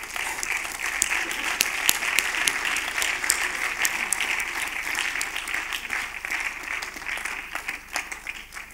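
An audience applauds an award winner coming on stage at the FIFF 2024 prize ceremony, with dense, steady clapping running the full length at even volume and no voices heard over it.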